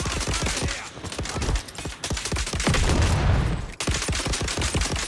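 Rapid gunfire in the third-person shooter game Dune Awakening, dense bursts of close, loud shots crackling almost without pause, with a heavier rumble around the middle.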